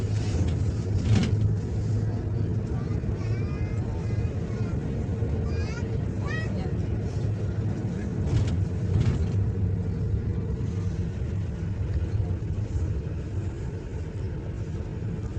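A vehicle climbing uphill in Mina near Mecca, a steady low engine rumble and road noise throughout, with a voice talking over it.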